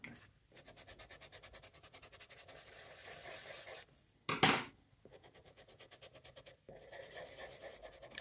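Oil pastel is drawn across paper in repeated close, soft rhythmic scratchy strokes, broken by a few short pauses and one louder scraping burst, quiet overall.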